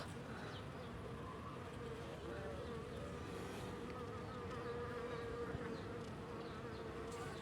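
Honey bees hum in a steady, dense buzz around an open beehive during a queen-rearing box inspection, the drone continuous and close throughout.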